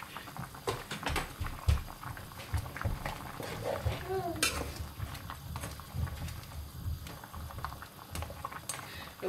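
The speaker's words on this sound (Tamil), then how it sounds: "நான் இப்படியே லிட்டை க்ளோஸ் பண்ணி கொதிக்க விடுவேன்" A covered pot of crab curry bubbles and simmers steadily, with soft irregular popping and gurgling close by.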